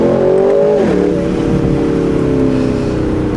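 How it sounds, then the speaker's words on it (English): Aston Martin Vantage Roadster with a manual gearbox in Sport Plus, accelerating hard in first gear out of a corner; a loud, steady engine roar with a brief dip near one second, then climbing revs, close and continuous with no talk. "we are in first, manual gearbox, mashing it out of the corner"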